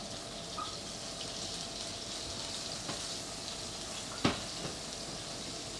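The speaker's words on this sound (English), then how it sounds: "Nice bit of butter into the pan." Butter sizzles faintly in a pan before beef is cooked in it, a soft steady frying hiss with a few small pops and one sharper clink near the end.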